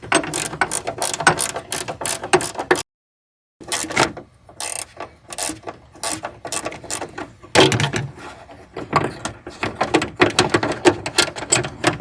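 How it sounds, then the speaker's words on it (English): An 8mm ratchet wrench loosening a screw while removing the antenna from a 1991 BMW 325i: close, repeated rapid clicking bursts with a short pause partway, alone without talk. "Okay, now I got the 8mm wrench."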